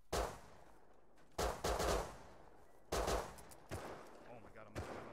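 Bursts of gunfire from the survival video game Rust crack out in several separate volleys, loud and sharp against quiet gaps, with no talking heard.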